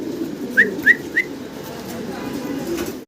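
Three short cooing calls from a pair of black checker running German Beauty Homer pigeons, close by, spaced about a third of a second apart over a steady low background hum.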